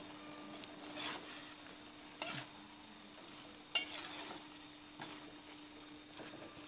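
Papaya leaf vegetables cooking in a pan, stirred every second or so with soft scraping, swishing strokes over a faint, steady sizzle and hum, fairly quiet and with no voices.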